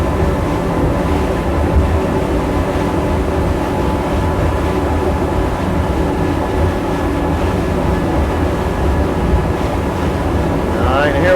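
Mercury outboard V8 or inline-six pushes a 2021 Invincible 33-foot Open Fisherman at speed, a loud, steady engine roar blended with rushing water and wind buffeting, continuous throughout.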